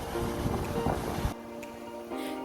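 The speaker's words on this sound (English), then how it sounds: "These beautiful waves wash many interesting things found in the ocean onto the shore" Steady wash of ocean waves and wind on the open shore at Caswell Beach, North Carolina, a dense broadband rush that drops abruptly to a quieter, thinner surf partway through, with no voices.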